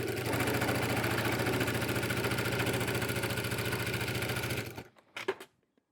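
A sewing machine stitching a bag seam with a utility stitch, running at a steady, fast, rhythmic hum for about four and a half seconds, then halting with a few short clicks and bumps.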